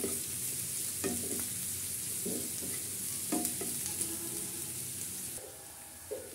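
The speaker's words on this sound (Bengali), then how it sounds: "তো ভালো করে পেঁয়াজগুলো একটু নাড়াচাড়া করে নেই।" Onions frying in a pan for a silver carp fish curry, stirred with a utensil: a steady sizzle runs throughout, broken by repeated scraping strokes, close and fairly loud with no voices.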